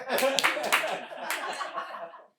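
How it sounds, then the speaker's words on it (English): A few comedy club audience members clap in scattered, uneven bursts of sharp claps, mixed with chuckles and murmured talk in a small room. "I'm going to need 3 people to clap twice"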